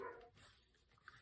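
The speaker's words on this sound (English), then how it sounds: "Those dogs drive me nuts." Dogs bark at a distance, faint and muffled, a short burst of barks followed by a softer yip.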